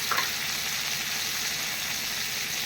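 Ginger and garlic frying in a pan for mutton biryani, a steady close sizzling hiss with a brief stir at the start.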